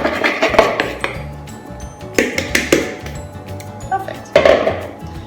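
A spoon scrapes and knocks against a bowl while the last chocolate chip cookie dough is cleared out, making a series of sharp clinks and scraping taps in uneven bursts, fairly close and loud.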